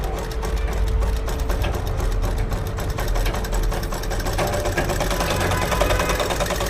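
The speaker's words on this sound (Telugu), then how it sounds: "ఇప్పుడు రెండో కుట్టు వేయాలనుకుంటే ఈ రెండో కుట్టు ఇక్కడ నుంచి వేసేసుకోవచ్చు" A sewing machine stitches a seam on a garment sleeve with a continuous, close, buzzing mechanical whir that holds steady throughout, with no voices.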